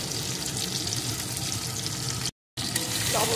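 Chilli paneer ingredients frying in a pan and being stirred, giving a steady close sizzle with a brief silent break near the end.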